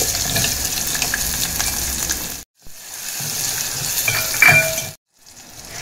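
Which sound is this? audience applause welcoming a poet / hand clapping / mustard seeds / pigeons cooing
mustard seeds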